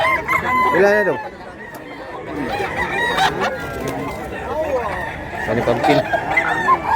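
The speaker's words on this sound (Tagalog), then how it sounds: "Lindo tong manok ko." A medium-sized rooster bought at a market crows and clucks near the microphone, its calls rising over a busy, chattering crowd while people talk close by.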